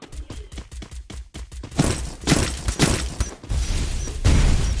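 Rapid game gunfire and mechanical clatter give way to several heavy, booming blasts that rumble loudly through the second half.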